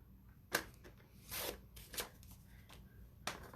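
A paper trimmer slices white cardstock for a handmade card, giving a few soft swishing, rasping strokes with brief sharp snaps between them, close and fairly quiet.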